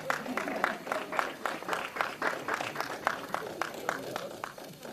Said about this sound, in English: Please give him an applause as he comes up.